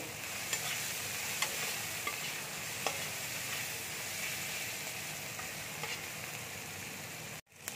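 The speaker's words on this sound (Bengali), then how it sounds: "দিয়ে ভালো করে ভেজে নেব।" Turmeric and spices frying with eggplant in a hot pan for bahari begun, a steady loud sizzle with occasional stirring scrapes and taps, no talking.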